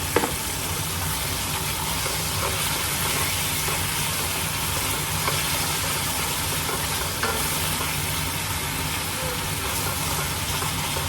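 Spice paste with star anise sizzles loudly in a pot for a braised brisket, a dense, continuous frying hiss with occasional stirring clicks, close and steady.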